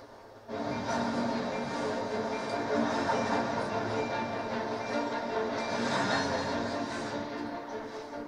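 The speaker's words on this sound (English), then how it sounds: "So we've got the train." Train moving along tracks in the video game Tomb Raider Anniversary, a sudden onset of continuous rumbling and rattling that holds steady for several seconds.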